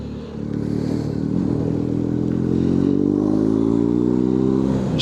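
A motorcycle rides along steadily on new tyres, its engine note loud and continuous with rising harmonic tones as it pulls, wind and road noise close throughout.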